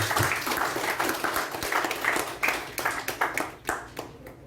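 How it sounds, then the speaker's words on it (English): Audience members at a Toastmasters youth leadership session applaud, a burst of mixed clapping that thins into a few scattered, separate claps at the end. "Please give a round of applause"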